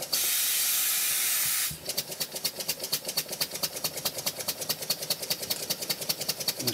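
A wig-wag twin-cylinder steam engine runs close by: first a steady hiss of steam, then a fast, even chuffing rhythm of exhaust beats that keeps going without talk.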